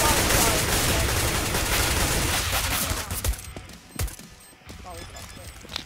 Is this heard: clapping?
no